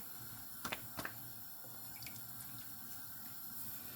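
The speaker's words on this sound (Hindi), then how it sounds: "ये पानी मैं अब गीला कर लूँगी हाथ को।" Water wetting a hand while shaping roti dough for cooking on a hot tawa: a few soft, brief splashes and drips near the start, then a quiet room.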